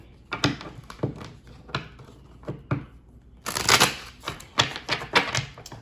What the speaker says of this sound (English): let's get these cards shuffled and get into your reading